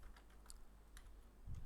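Quiet taps on a computer keyboard, a few light clicks spaced irregularly over a short stretch, close by and soft, with no speech.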